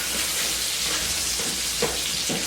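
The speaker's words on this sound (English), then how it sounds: "that's frying up those cloves of garlic just perfect" Garlic cloves frying in butter and olive oil in a pan with steak, giving a steady close sizzle with a few brief spatters and stirring clinks.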